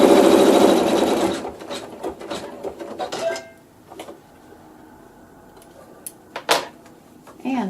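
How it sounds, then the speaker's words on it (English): A home sewing machine stitches a seam with neutral thread, a loud close whirring run for the first second and a half, then scattered short mechanical ticks and bursts with a quieter pause in between. "I'm going to go ahead and have it stitch the seam."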